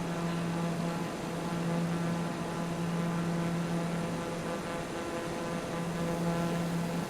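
A steady propeller-aircraft engine drones in Microsoft Flight Simulator 2020 over the Greek islands, a constant low hum with faint tonal whine, quiet and unbroken throughout.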